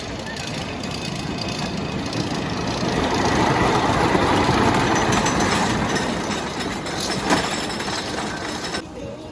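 Cannonball roller coaster train at Lake Winnie amusement park rolling along its track, a steady broadband rumble and clatter that swells in the middle and stays loud throughout, with no voices.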